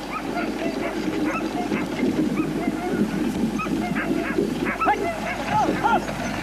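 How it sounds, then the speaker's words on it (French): Sled dogs of a 1986 North Pole expedition bark and yip in a continuous, busy chorus, several animals calling at once at moderate distance over steady wind-like background noise. "Quand j'ai entendu les cris des chiens, j'ai d'abord cru à des hallucinations."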